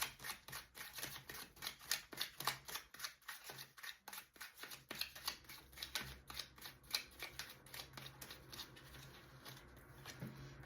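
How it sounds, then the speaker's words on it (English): Oracle cards are shuffled by hand, a quiet close series of rapid papery riffles and flicks coming in uneven bursts with brief pauses between. "let's pull a couple of oracle cards just to wrap it up"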